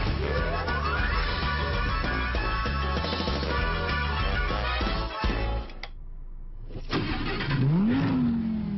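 A supercar engine, one of them a sharp-styled Huracán, revs hard with a roaring exhaust, climbing in pitch, cutting out briefly, then surging and revving again, loud and close.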